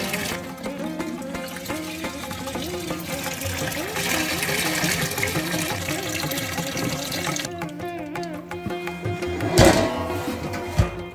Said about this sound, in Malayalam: അതിൻ്റെ ടാപ്പ് തുറന്നു കഴിഞ്ഞാൽ അണ്ടാവ് നിറയ്ക്കാൻ പറ്റും